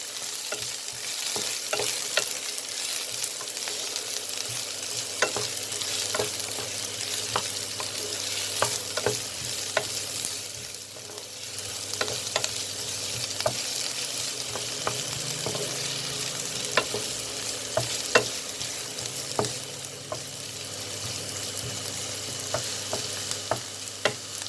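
Button mushrooms with capsicum sautéing in a pan, a steady sizzle broken by repeated scraping stir strokes throughout, close and fairly loud with no talking.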